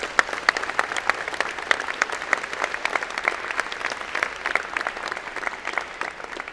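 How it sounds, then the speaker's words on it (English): An audience at a College of Engineering and Computer Science convocation applauds an emeritus faculty member, a lively steady spread of many claps with some individual hands standing out close by. "Give him a big round of applause."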